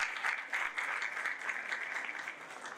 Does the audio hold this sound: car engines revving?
no